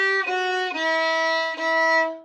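A violin or viola plays a short beginner exercise phrase from a method book, sustaining a few bowed notes in sequence that step downward to E, clear and close with no talking.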